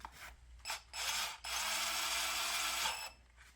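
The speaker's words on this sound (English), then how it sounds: "I'm going to put the drill in forward" A Deko 20V cordless drill whirs in short bursts, then runs steadily for a couple of seconds as it drives a screw, close by with no talking.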